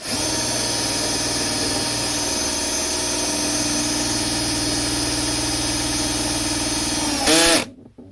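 A drain cleaning machine spins inside a clogged drain, giving a loud, steady motor whine with a grinding hum that holds for about seven seconds before rising briefly and cutting off abruptly.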